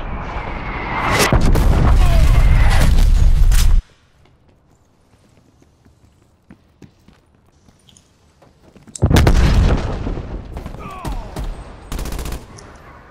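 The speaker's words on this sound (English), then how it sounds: "Artillery targeting detected." Artillery barrage in an online shooter video game: loud, dense bursts of booming explosions and rapid gunfire, a stretch of near silence, then another heavy barrage.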